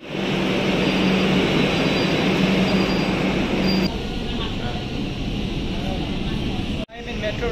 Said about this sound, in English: I'll go get inside the metro now.